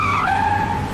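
A cartoon bus skids to a stop with a loud, continuous tire screech that bends downward in pitch and holds for about a second, with no other sounds.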